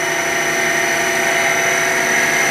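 A loud, steady mechanical whine and hum of an Eldorado M75-15 twin spindle gun drill running continuously, with tonal motor pitches and a constant drone, no pauses.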